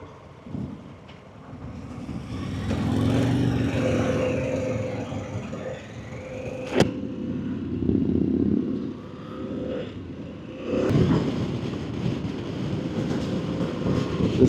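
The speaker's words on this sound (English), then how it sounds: "This bike is really effortless at high RPMs." A 2025 Harley-Davidson naked sport bike engine droning while riding, rising and falling with throttle under heavy wind rush across the microphone, steady and continuous with no talk.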